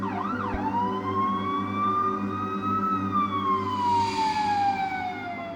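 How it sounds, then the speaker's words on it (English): A police siren wails close by, its rising and falling tone sweeping over a low hum of traffic with no speech. "Then I heard them. Police sirens. They were close."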